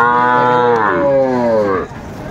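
A Sahiwal calf moos loudly once, a long drawn-out bellow with a wavering pitch that cuts off near the end, close by with nobody talking.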